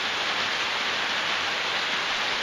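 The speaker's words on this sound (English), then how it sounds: "The whippoorwill and rain on a tin roof just gets me close to my roots." Steady rain drumming on a tin porch roof in Burns, Tennessee, a dense, even hiss of countless drops that stays loud and unbroken throughout, with no voices.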